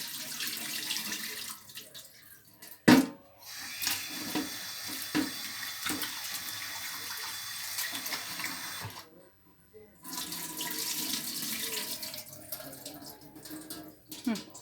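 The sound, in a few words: tap water running while washing lentils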